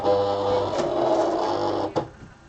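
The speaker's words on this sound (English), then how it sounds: "now I'm going to place it in my Silhouette machine, and it's going to cut around my image" A Silhouette Cameo cutting machine cuts around a printed image, a steady mechanical whirring hum with a sharp click near the end before the motor quiets down.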